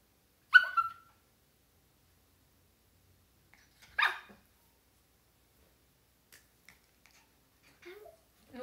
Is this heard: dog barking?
yes